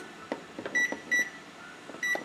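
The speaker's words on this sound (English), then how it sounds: "I'm gonna go ahead and set a timer for 3 minutes." A kitchen timer or microwave sounds a few short electronic beeps in a row, spaced apart, against faint clatter and low room noise while fudge is being made on the stove.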